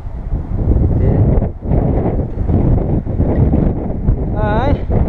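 Gusty outdoor wind buffets the microphone in a steady broadband roar throughout, with a brief lull partway and a short whistling chirp near the end, during a windshield replacement on a 2004 Dodge pickup.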